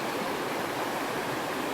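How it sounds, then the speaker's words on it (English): Gragg Prong Falls, a waterfall of about 40 feet in a narrow gorge in Pisgah National Forest, North Carolina, gives a steady broadband roar of falling water. It is constant and even throughout, with no voices. "if you are visiting this waterfall"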